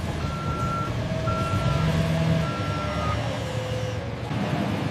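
A forklift carrying sugar sacks to trucks at a sugar factory rumbles steadily nearby while a reversing alarm beeps in a regular repeating pattern over the engine noise.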